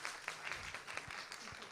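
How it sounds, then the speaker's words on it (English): Brief applause for a student at a college induction ceremony, a soft, diffuse patter of many hands heard at moderate distance, short and steady. "Everybody can have a round of applause for her."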